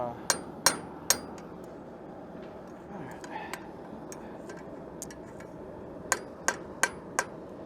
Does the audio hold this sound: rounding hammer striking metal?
yes